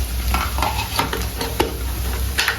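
A pan sizzles loudly and steadily while a spoon stirs and scrapes against the metal in repeated strokes, close up with no voices.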